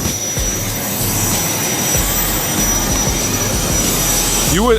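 Loud, steady roar of a JSX private jet's engines heard up close on the ramp, a continuous whine and rumble holding for several seconds without any talk.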